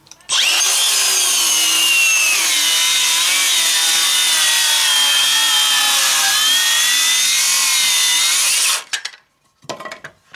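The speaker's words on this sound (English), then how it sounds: "Ripping is one thing that I've found over time that cordless circular saws hate." A Makita XSH03 18V LXT brushless cordless 6-1/2-inch circular saw rips lengthwise through wood in one long, loud, steady cut with a whining blade and rasping bite. It spins down abruptly near the end, followed by a few brief knocks.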